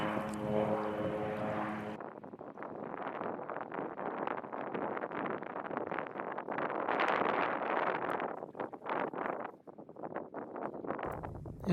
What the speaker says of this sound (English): I watched the park plane do a few flybys overhead before landing right in front of me on Smoke Lake.